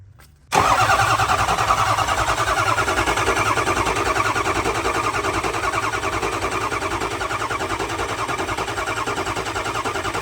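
A Ford F250 with a 6.0 Powerstroke diesel, sitting unused for two years, cranks and catches, then settles into a loud, steady, rattling diesel idle close by, with no voices.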